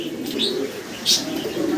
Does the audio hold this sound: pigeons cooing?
yes